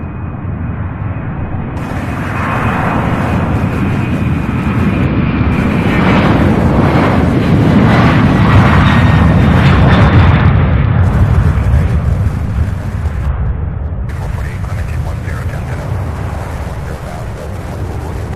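A UPS cargo plane departs at Louisville airport, its engine roar swelling loud and broadband for most of the stretch with wind buffeting the microphone, then easing slightly toward the end, no voices present.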